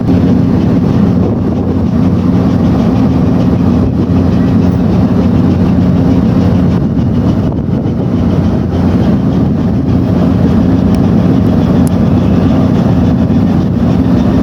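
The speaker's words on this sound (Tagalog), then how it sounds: "Abiso, pwede na tayo gamit makina. Atras tayo." A boat engine runs with a steady low rumble as the vessel backs away slowly, a loud continuous drone with wind buffeting the microphone and no speech.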